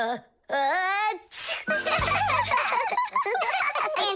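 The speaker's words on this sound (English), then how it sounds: "but then his nose tickled and achoo." A quick cartoonish sneeze bursts out, followed by lively, bouncy vocal sounds and music-like tones carrying on underneath.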